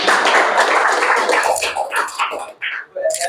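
Applause from an open-mic audience for a team member, a dense burst of clapping that breaks into scattered individual claps and fades toward the end.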